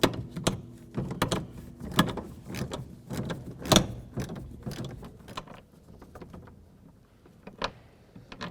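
8mm bolts being removed from an inner door panel of a 2007-14 Ford Edge, heard as a run of close mechanical ratcheting clicks and knocks with uneven rhythm, fairly quiet, with no talk.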